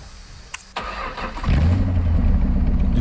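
A vehicle engine in a video game cranks briefly, then catches and settles into a steady, loud idle hum, with no talk over it.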